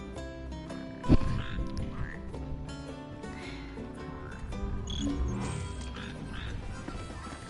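Red frogs croaking in the Final Fantasy XV video game, repeated croaks set against dense game music and ambience.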